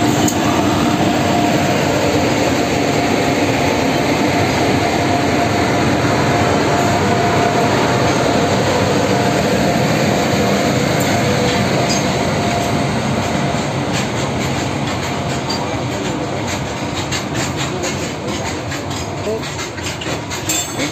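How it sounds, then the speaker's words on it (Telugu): A long goods train hauling coal behind two engines rolls past a railway station with a loud, steady rumble and clatter of wagons that eases slightly toward the end. "మక్తల్ జంక్షన్ నుండి మాగనూరు రైల్వే స్టేషన్కు మరి కొద్దిసేపట్లో గూడ్స్ ట్రైన్ బొగ్గుల బోగి రెండు ఇంజన్లతో 64 డబ্బాలను"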